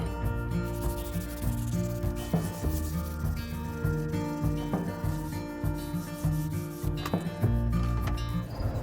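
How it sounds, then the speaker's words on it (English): Hand sanding of wood with purple 180-grit sandpaper during a restoration, steady rhythmic rubbing strokes close by and fairly loud, with a low musical hum running underneath. "It is worth buying the good sandpaper. this purple stuff versus the brown stuff."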